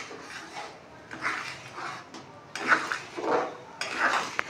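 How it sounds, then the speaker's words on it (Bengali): A spoon stirs butter through a chickpea curry in a pot, giving several separate bursts of scraping and knocking against the metal with short quiet pauses between strokes. "বাটারটা পুরো তরকারির ভেতরে মেল্ট হওয়া পর্যন্ত নাড়তে থাকবো।"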